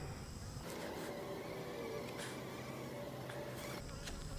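Honeybees buzzing around an open hive during an inspection, a steady close insect drone running unbroken under faint handling noises.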